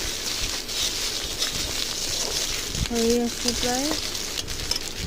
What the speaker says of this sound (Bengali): রসুন আর পেঁয়াজের শুকনো লঙ্কার মধ্যে অল্প ভাজা ভাজা করে নেব